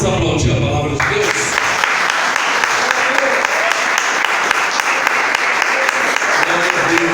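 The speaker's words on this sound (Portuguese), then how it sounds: "Vamos aplaudir a palavra de Deus." A church congregation at a worship service applauds loudly and steadily for several seconds, a dense sustained clapping that fills the room, with a voice briefly heard at the start.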